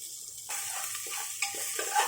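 Chopped garlic and ginger sizzle in hot oil with whole spices in a pan, a steady fry broken by quick stirring scrapes, close and clear with no talking.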